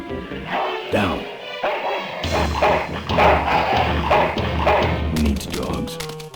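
A dog in the Full Throttle video game gives a string of barks and yips, loud and close, mixed with a character's voice.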